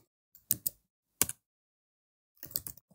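Keystrokes on a computer keyboard while HTML code is entered, heard as a few short clusters of clicks with gaps between them, close and fairly quiet.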